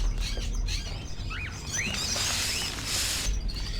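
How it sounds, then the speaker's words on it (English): Tropical bird calls from a video game scene with ravens and crows: several quick chirps and rising whistles overlap above a low, steady ambient bed. "these birds are making tropical bird sounds and that they're all ravens and crows"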